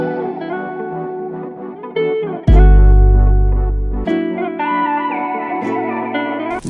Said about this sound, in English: Since the melody is taking so much space, I wanted a simple bass pattern.